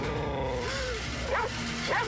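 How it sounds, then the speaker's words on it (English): A dog barks and yips in a Goosebumps TV episode, a few short barks over a dense, steady background of music and sound. "That's a dog."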